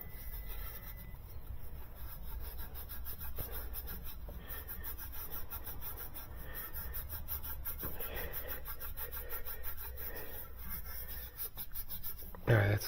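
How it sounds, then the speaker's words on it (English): Steady rubbing and scrubbing beneath a pipe on a 2013 Chevy Malibu 2.5 during a water pump replacement, a continuous close-up rasping friction that runs the whole time with no talking. "So we're just gonna grab underneath this pipe. Give her a good rubbing."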